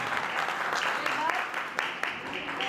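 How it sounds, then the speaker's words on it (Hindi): An audience at a Nag Panchami yagna and havan ceremony claps. The applause is moderately soft and continuous, with a voice talking over it throughout. "एक बार जोरदार ताली बजाकर इनका उत्साहवर्धन करिए"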